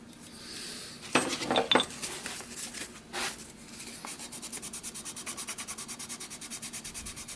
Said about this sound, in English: I'm going to use my chisel to remove just a little bit of a flat spot